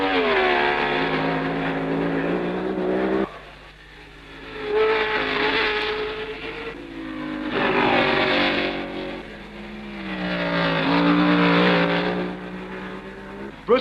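A 1962 Lotus 25 Formula 1 race car at the French Grand Prix sweeps past with rising and falling engine notes, its high-revving howl swelling and fading across several gear changes and passes.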